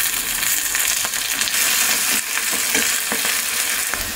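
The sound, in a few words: dry roasting gongura leaves in a pan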